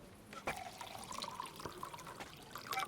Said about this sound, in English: Let's pour ourselves another drink then.